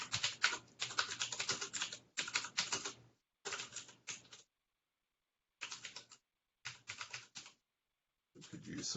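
Computer keyboard typing in uneven bursts of rapid keystrokes separated by pauses, close and fairly quiet, during an online software project meeting.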